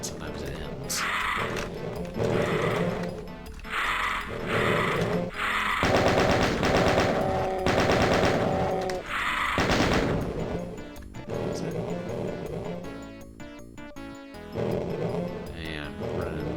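Gunfire in the video game DOOM breaks out in repeated rapid bursts and single shots, mixed with game effects and music, while a person talks over parts of the action.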